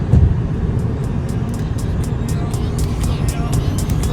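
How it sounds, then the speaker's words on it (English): A car running on an E85 ethanol blend drives steadily along a highway after leaving Las Vegas, its engine and road noise a continuous low rumble with faint voices in the background. "And the car's chugging along perfectly fine"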